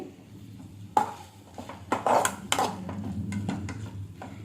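Tomato and ivy gourd frying in a pan while being stirred with a spoon, giving close, irregular scrapes and clinks against the metal pan with a faint sizzle underneath, no voices.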